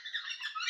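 Outdoor birds squawk with a scratchy, harsh call, rising and falling across a short stretch. The calls are fairly close and heard alone, with no talk.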